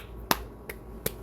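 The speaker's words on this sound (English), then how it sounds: "Shout out to my girl for doing the claps for me" Three sharp, offbeat hand claps ring out in quick succession, crisp and close against a quiet background, the first loudest and the others slightly softer.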